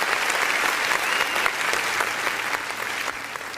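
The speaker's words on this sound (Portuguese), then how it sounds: "Vamos aplaudir o nome do Senhor Jesus." Church congregation applauding during an online worship service, a steady, dense clapping that holds evenly at close range for several seconds with no talk over it.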